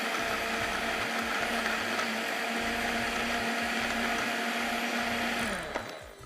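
A blender whirs loudly and steadily for several seconds with a rattling, grinding texture from ice, then winds down at the end.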